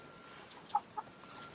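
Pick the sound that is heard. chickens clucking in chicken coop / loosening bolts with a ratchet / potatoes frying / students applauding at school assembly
chickens clucking in chicken coop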